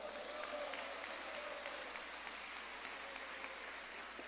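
A church congregation applauds during an evening Spanish-language sermon, a steady, fairly quiet wash of clapping that runs throughout with a voice faintly underneath.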